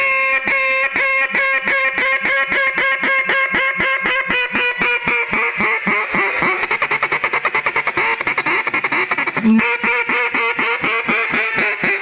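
A duck call is blown hard, producing loud, close, raspy quacks in a fast rhythmic series that speeds into a rapid chatter of short notes near the end, with no talking.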